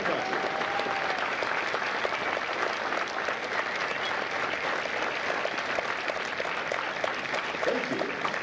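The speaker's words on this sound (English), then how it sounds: "Ladies and gentlemen, a round of applause for their dedicated service to Corps and country." A large audience at a Marine recruit graduation ceremony at MCRD San Diego applauds steadily for several seconds, a dense, sustained wash of clapping filling the space, with a faint voice briefly at the start.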